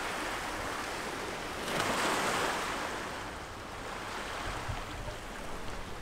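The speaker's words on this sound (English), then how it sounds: "We have another small little beach here." Waves wash continuously onto a small beach in Agios Nikolaos, Crete, a broad hissing surf that swells and recedes once, with some wind noise and no talk.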